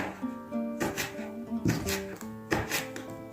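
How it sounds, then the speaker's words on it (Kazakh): A knife chops hot chili pepper on a board for a liver salad, a few sharp, close strikes spaced about a second apart over steady background music. "осындай ащы бұрыштан жартысын турап шығамын"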